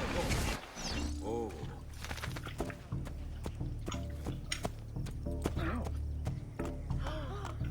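Horse hooves clip-clopping in the Assassin's Creed 2 video game, a run of hollow clops with in-game clanks and drips around them, with someone talking over part of it.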